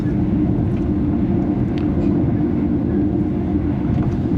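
Shalimar Express passenger train running at speed, a loud continuous low rumble and rattle of wheels on track heard from inside, steady and unbroken throughout.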